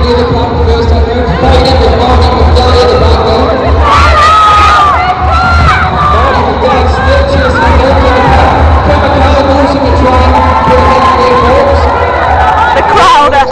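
A packed roller derby crowd at a men's bout cheers and shouts loudly and continuously, with surging yells and whistles, and voices chattering throughout the din.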